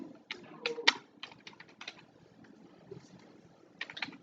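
Irregular clusters of clicky keystrokes on a computer keyboard, close and fairly quiet, with short bursts separated by pauses.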